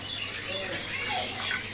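Small caged songbirds chirp and tweet in quick, high calls, close by at a bird-selling stall, over a steady background hum with a faint voice underneath.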